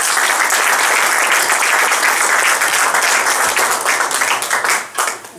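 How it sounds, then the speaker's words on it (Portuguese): Audience at a literary gathering in Portugal honouring the 1998 Nobel Prize in Literature applauds steadily, a dense sustained clapping that holds full strength before thinning and tapering off near the end. "Uma salva de palmas."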